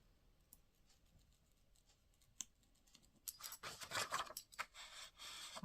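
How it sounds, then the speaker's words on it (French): A dotted-line craft roller wheel runs along the edge of a sheet of paper, giving a close, dry, scratchy rasp that starts after a quiet stretch and continues in short bursts of rolling friction. "c'est une roulette pour faire des pointillés, un effet pointillé"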